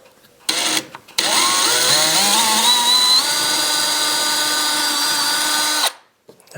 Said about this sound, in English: drill this nice and slow because we don't want to poke through and hit the wall on the other side